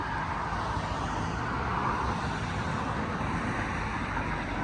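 Steady car traffic noise in Sleepy Hollow, a continuous broad rushing hum from passing vehicles at a moderate distance, with no talking.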